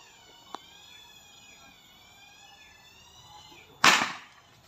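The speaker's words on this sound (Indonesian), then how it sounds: "Tembakan pertama." After a faint click and a few quiet seconds over a high whining tone, a single sharp PCP air rifle shot at a brick target cracks loudly and close.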